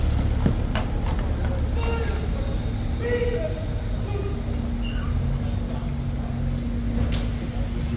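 Horse hooves clip-clop on pavement amid a crowded outdoor scene, with irregular clops under steady crowd murmur and people talking.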